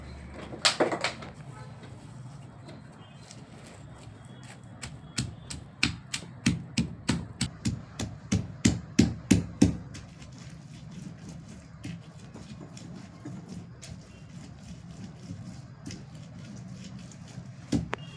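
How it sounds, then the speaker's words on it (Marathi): Roasted green chillies being pounded with salt in a mortar and pestle, a run of sharp, evenly spaced thuds that speed up and grow louder before stopping, with no talking. "मी मिरची भाजून घेतलेली आहे त्याला आता चांगलं खलबत्त्यामध्ये वाटून घ्यायचं आहे थोडंसं मीठ टाकून"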